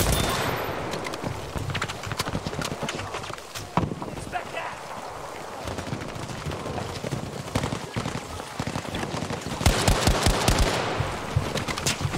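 Rapid automatic gunfire rattles in continuous bursts for the whole stretch, loud and close, with a heavier barrage near the end and voices shouting underneath.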